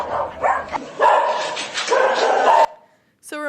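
Dog barking in a clip used to stimulate a neuron in a multimodal deep learning network, several rough close barks and yips in quick succession, then a short pause and a brief whine at the end.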